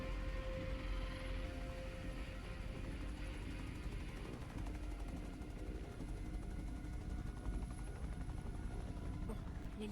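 A helicopter in the video game inFAMOUS First Light, a steady droning whir with rapid rotor chop, continuous and fairly loud, with a faint high whine and no talk over it.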